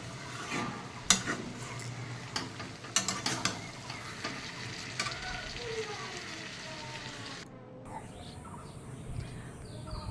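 Jackfruit curry being stirred in hot oil, heard as a run of scraping and clattering utensil strokes against the pan over a soft sizzle, fading into quieter background noise near the end.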